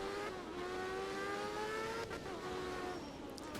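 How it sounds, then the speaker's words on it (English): A Mazda rotary engine in the rally game art of rally drones steadily at high revs with a smooth buzzing tone that rises slightly, quiet and unbroken throughout. "Proper Mazda rotary sound."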